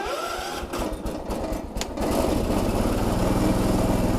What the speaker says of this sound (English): I'll give it a little bit of choke, a little bit of throttle, and turn the key.